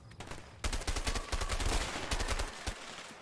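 Loud bursts of automatic gunfire in the co-op game A Way Out, a dense rattling volley after a single opening shot, close and dominant.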